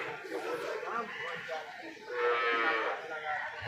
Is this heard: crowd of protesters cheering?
no